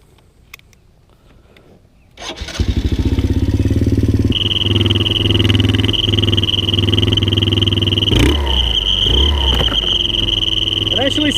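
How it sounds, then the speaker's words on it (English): An ATV engine fitted with a fake turbo whistle starts after a quiet moment, then idles and revs loudly and steadily with a sustained high whistle over the engine drone; a brief burst of extra revving comes near the end. "It actually sounds more like a turbo on the ATV."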